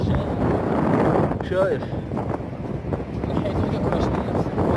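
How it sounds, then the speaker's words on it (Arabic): Strong wind roars and buffets the microphone steadily in snowy Tikjda, Algeria, with someone speaking briefly over the rushing gusts. "وهذه هي الريح راهو يطير الريح وداير حاله"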